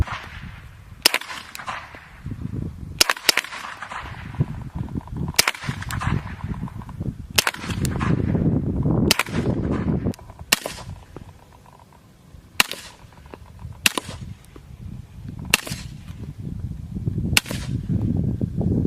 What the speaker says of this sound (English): that was the M9A3, or the suppressed pistol, both suppressed and unsuppressed with different kinds of ammunition